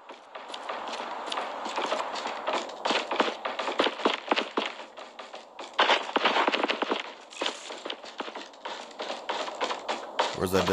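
Rapid footsteps in Call of Duty Mobile battle royale patter as quick, irregular taps, fairly close and continuous, with brief pauses and bursts, with no talk over them.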